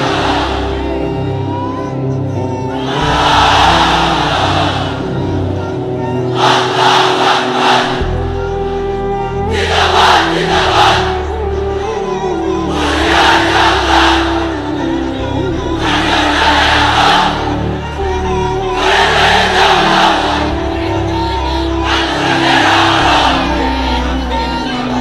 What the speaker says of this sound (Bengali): এক একটা তাকবীরে যাতে এই প্যান্ডেল কেঁপে ওঠে।